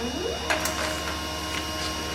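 A Pantum P2505W printer, which had a flashing red error light, keeps running after its cancel button is pressed, giving a steady low mechanical whir with faint clicks throughout and no voices.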